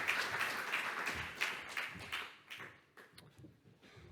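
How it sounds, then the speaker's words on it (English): A conference plenary audience applauds to welcome a presenter, a soft, diffuse patter of many hands that gradually thins out, with a few scattered claps near the end. "please welcome Tucker with a show of claps"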